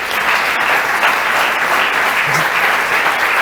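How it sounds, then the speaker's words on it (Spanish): Church congregation applauding, steady dense clapping from many hands, loud and sustained throughout without a break. "Denle un aplauso a Dios."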